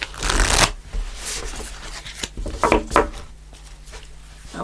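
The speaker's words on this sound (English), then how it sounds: "I'm just going to do one more shuffle." A deck of tarot cards shuffled close by during a weekly reading, a dense papery riffle burst up front followed by softer scattered flicks and slides of the cards, with no talking.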